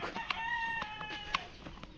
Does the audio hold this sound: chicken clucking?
yes